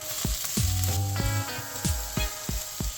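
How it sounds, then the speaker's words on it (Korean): Sliced fish cake and cheongyang chili stir-frying in two spoons of cooking oil in a pan: a steady close sizzle broken by repeated scraping strokes of a utensil in an uneven rhythm, with no talking. "팬에 식용유 2스푼 넣고 썰어놓은 어묵 모두 넣고 청양고추 넣고 볶아주세요"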